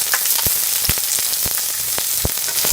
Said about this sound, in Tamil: வெங்காயம் கொஞ்சம் நல்லா வணங்கிருச்சுங்க.